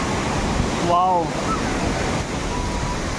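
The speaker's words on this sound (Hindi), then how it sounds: "और एकदम वाटरफॉल पे जाके गिर रहा है पानी नीचे, ये देख सकते हैं।" Water pours steadily at Aapkhol waterfall in Bargarh, Odisha, making a continuous broad rushing roar that fills the whole stretch. Early on, a voice briefly exclaims over it.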